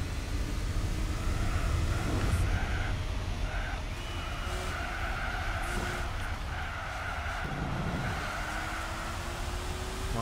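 An old TVR sports car in Gran Turismo 4 drives with a steady engine drone while its tires squeal and skid repeatedly, the screeching rising and falling through several slides.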